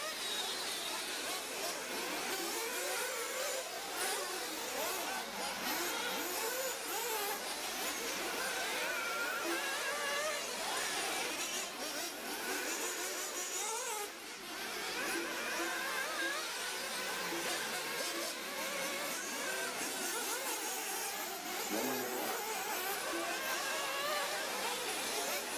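Several 1/8th scale offroad RC cars race around a track with a continuous high buzzing whine of small engines, steady and fairly distant, under crowd babble and announcer-style talk.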